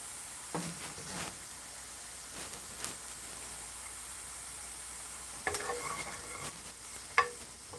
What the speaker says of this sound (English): we're going to put a little bit of bacon grease to caramelize the onions